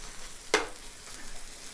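Bread sizzling as it is laid in hot oil in a frying pan while making a Philly cheesesteak sandwich: one sharp crackling burst, then a faint steady sizzle.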